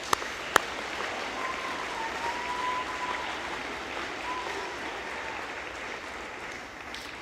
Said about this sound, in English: Give them a little round of applause as well.